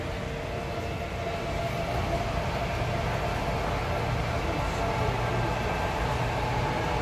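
A model log train runs at a model train museum, giving a steady, close mechanical rumble and whir with no breaks, and no one speaks.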